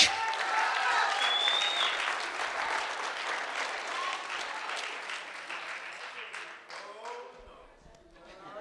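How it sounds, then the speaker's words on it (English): Wedding guests at a toast reception applaud the best man with a sustained round of clapping that gradually tapers off, while voices and cheers rise over it. "let's give a big round of applause to Josh."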